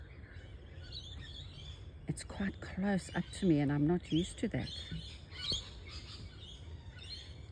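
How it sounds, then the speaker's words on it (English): Birds chirp and tweet faintly in the background while a person speaks quietly up close. "So you can hear the birds."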